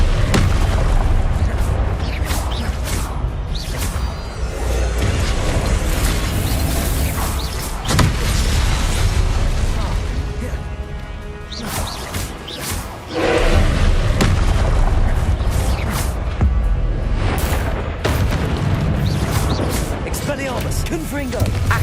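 Expelliarmus and Confringo spells cast repeatedly in Hogwarts Legacy combat: a steady run of booming blasts and sharp bursts over a continuous loud rumble, with a brief dip in the middle and no talk over it.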